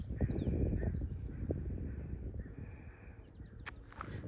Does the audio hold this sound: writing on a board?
no